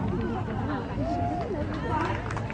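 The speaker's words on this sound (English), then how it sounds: "Pretty big crowd, obviously against vaccine mandate" A large crowd protesting vaccine mandates at the Arizona Capitol in Phoenix, heard as a continuous outdoor babble of many voices with scattered shouts and chatter, steady and moderately loud throughout.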